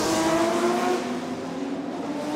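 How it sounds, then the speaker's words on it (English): Racing cars on a warm-up lap at Chang International Circuit in Thailand, a loud sustained engine roar with a droning high whine that eases slightly partway through, no voices. "Listen to the engines roar."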